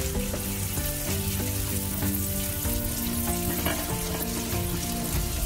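Kimchi fried rice ingredients sizzling in a pan as they cook until fragrant, a continuous dense frying crackle heard under music throughout.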